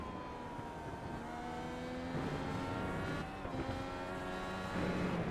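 A Top Fuel Racing race car lapping Donington Park, recorded onboard from a helmet camera: a steady, droning engine note with shifting pitch through gear changes, continuous and close with no talk.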